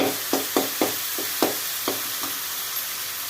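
Liver sizzles steadily in hot frying oil while a spoon scrapes and stirs the pan in a series of sharp, evenly spaced strokes over a constant hiss.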